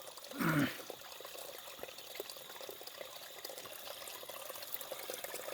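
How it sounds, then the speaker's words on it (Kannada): Clean stream water flows down from the forest with a soft, steady trickle and babble, close by and fairly quiet, with one brief louder splash near the start. "ನೀರು ಎಷ್ಟು ಶುದ್ಧವಾಗಿದೆ ಅಂದರೆ ಇದು ಬರ್ತಾ ಇರೋದು ಕಾಡುಗಳ ಮಧ್ಯೆಯಿಂದ ಹರಿದು ಬರ್ತಾ ಇದೆ"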